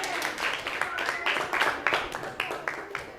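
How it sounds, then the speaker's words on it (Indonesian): Classroom applause in a biology lesson: a burst of hand clapping from students, moderately loud and steady for a few seconds, with the teacher's voice heard speaking over it. "Kasih tepuk tangan."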